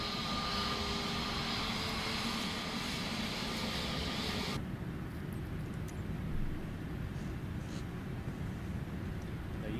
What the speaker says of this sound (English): We are now taxiing.